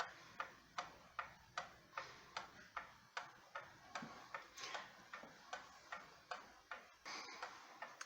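Seth Thomas gallery wall clock from about 1910 ticks faintly in a steady, even rhythm, roughly two beats per second, close by with no other sound.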